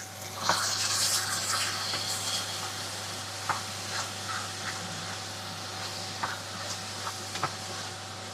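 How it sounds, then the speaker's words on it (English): Mince beef frying in two pans at once, a soft continuous sizzle with scattered pops and scraping stirs over a steady low hum. "we're basically going to be frying it a little bit."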